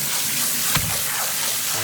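A sink fills with water running from the tap to soak lighter-colored Converse All Star shoes in OxiClean, giving a steady close hiss of flow throughout.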